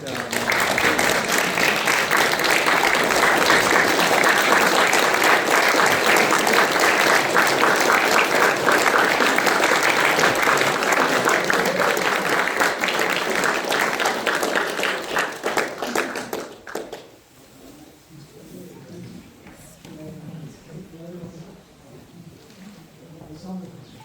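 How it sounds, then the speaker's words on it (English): A standing ovation for a climbing presenter at a Canberra climbers' association evening: loud, dense clapping fills the room for about seventeen seconds, then drops off abruptly, leaving scattered voices and light murmuring. "giving him a standing ovation, applause"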